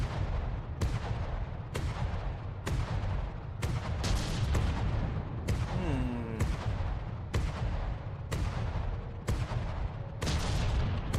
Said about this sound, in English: instead of firing all the shells and then having to reload, it can instead do this. And have a constant firing.